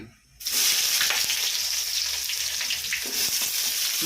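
Onions dropped into hot oil for prawn biryani burst into a loud, steady sizzle after a brief quiet start, with a few clinks of stirring and no talking.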